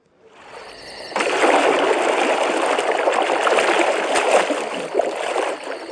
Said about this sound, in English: The moment the elephant stepped into the lake, there were ripples in the water.